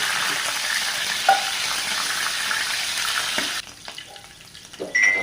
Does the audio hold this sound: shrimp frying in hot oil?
yes